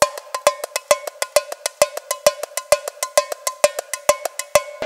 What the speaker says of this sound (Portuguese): Tem muita no tamborim, então tem que fazer esse exercício pra conseguir equilibrar a força da mão, ó.